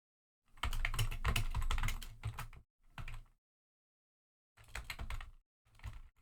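Rapid typing on a computer keyboard comes in several bursts of close, clattering keystrokes separated by short silent pauses, with no talking.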